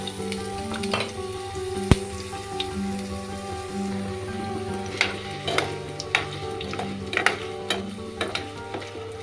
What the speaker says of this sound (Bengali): এইবারে তেল গরম হয়ে গেছে। এরপরে আমি আগে থেকে কেটে রাখা এই আলুর পিসগুলো ভেজে নেব।